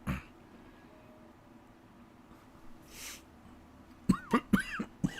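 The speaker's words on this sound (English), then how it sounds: "mute the mic and cough" A person coughs several times in quick succession near the end, loud and close, after a quiet stretch with a faint throat sound and a soft breathy noise.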